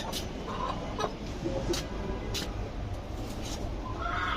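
Chickens clucking now and then as they peck at Malabar spinach in hot summer weather; the clucks are faint and scattered over a steady outdoor background noise.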